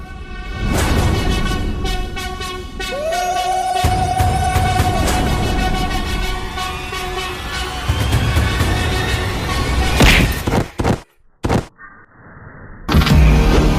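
Car sound effects from a Hindi action film: a dense engine roar with a rising mechanical whine, sharp thuds and bangs, then brief dropouts before the noise returns loudly.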